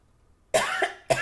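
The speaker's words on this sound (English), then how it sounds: "I have a very dry cough and sniffles." Two dry coughs from a person with a cold, the first a longer rasping burst, the second short and sharp after a brief pause, close and loud.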